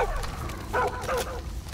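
A dog named Boomer, downed in the Far Cry video game, lets out short high whimpers and yelps in a few quick bursts over low game background noise.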